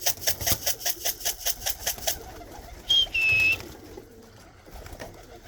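Tippler pigeons in a loft, with a rhythmic run of soft repeated pulses for about two seconds followed by a brief bright whistle-like call, then quieter background.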